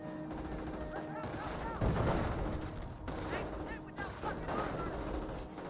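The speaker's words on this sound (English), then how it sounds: "a good number of them firing away against these units" Infantry gunfire in the World War II strategy game Company of Heroes, steady rattling volleys and scattered shots under a busy battlefield mix, with one louder burst near the middle.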